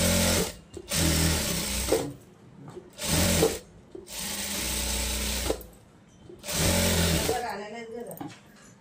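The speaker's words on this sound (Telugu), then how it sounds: "కొంచెం దూరం కుట్టు పెట్టేసి మనం లైనింగ్ అనేది అటాచ్ చేస్తాం." Sewing machine stitching lining onto a boat neck blouse, several loud, close runs of rapid mechanical whirring separated by short pauses, with a voice talking faintly in the gaps.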